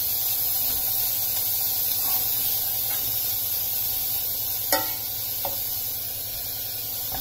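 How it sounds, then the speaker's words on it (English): Chopped onions and cabbage sauté in melted butter in a pan, a steady close hiss with a couple of brief spatula knocks and scrapes, no talking. "So in goes in the chopped onions. Going to give it a quick saute."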